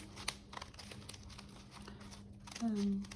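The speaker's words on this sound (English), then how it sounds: "going from the top down to the bottom of that cut, and then cutting from the top again, moving down." Scissors snip through paper while cutting the petals of a dahlia paper star, giving a run of short crinkly crunches and rustles under a talking voice, with a slightly louder cut near the end.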